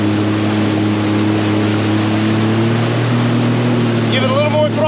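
A 2022 Sea-Doo RXT-X 300 personal watercraft pulls away on open water, its engine a steady loud drone that rises gradually in pitch as throttle builds, with water rushing underneath and a brief voice near the end.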